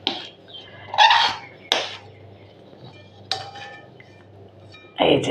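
Cooked khirsa scraped from the bottom of a wok, a few loud, separate metallic scrapes and clinks of a utensil against the pan, with quieter gaps between them.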